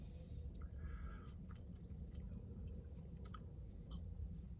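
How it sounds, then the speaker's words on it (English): Soft, close chewing of food during a mukbang meal, with faint wet squishes and small clicks against a low background hum. "I don't know if I'm supposed to be quiet about my chewing on a mukbang"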